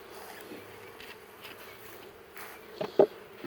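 Bees hum faintly around mini mating nucs, with a couple of louder buzzing passes close by near the end.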